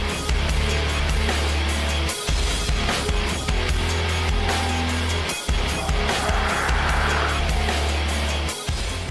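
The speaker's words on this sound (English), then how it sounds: "Experienced drivers can be sure they won't lose control even when drifting through a curve." A BMW 2 Series drifts through a curve, its engine roaring loud and steady with tire noise close by. The sound drops out briefly a few times. No one speaks.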